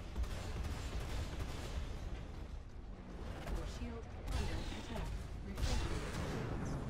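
Ship weapons fire during a Vanduul Swarm dogfight in Star Citizen: dense rapid bursts of gunfire over a rumbling engine drone, loud and continuous with heavier booming pulses near the end.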